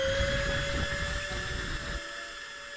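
Model airplane engine in the RealFlight 9.5 flight simulator droning steadily with a sustained whine as the craft rolls for takeoff from grass, loud and constant throughout, its low rumble dropping away near the end.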